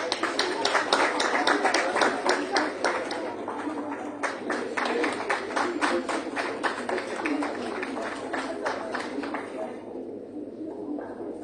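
An audience at a Bharatnatyam performance event claps in a dense, rapid burst of applause that gradually thins and fades over about ten seconds, heard at moderate distance in a hall.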